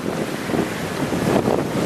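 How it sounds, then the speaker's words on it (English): Open-water waves wash and hiss around a sailing boat under a steady roar of wind buffeting the microphone, continuous and fairly loud with no talk. "the waves out here in this unprotected water"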